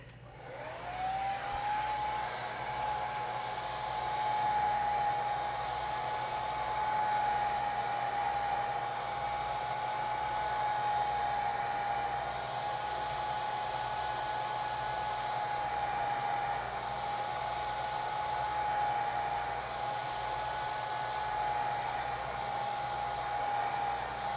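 A hair dryer blows steadily and loudly over a fresh acrylic painting, a continuous whirring hum with a high whine that holds for the whole stretch.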